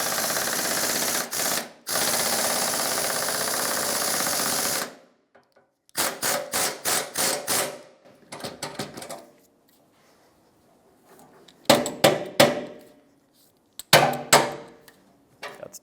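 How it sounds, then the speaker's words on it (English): Bolts on the L-shaped brackets holding the rear bumper center piece of a 1996-2002 Toyota 4Runner being tightened: a long grinding ratchet burst, then several clusters of quick metallic clicks separated by pauses, close and fairly loud. "let's tighten up the 2 L-shaped bracket bolts that secure the bumper piece on"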